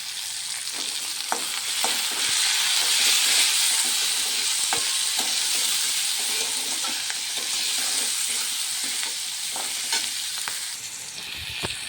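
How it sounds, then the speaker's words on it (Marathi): Pods fry in a pan with turmeric and salt, a steady broad sizzle running throughout with scattered clicks and scrapes of stirring, close and fairly loud. "शेंगा चांगल्या तळून झाले"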